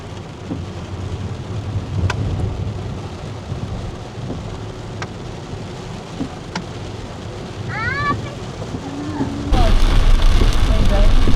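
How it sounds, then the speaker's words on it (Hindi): Heavy rain pours steadily while thunder rumbles low, with a few sharp cracks and brief voices in the background. "रास्ते में बारिश बहुत तेज़ हो गई थी।"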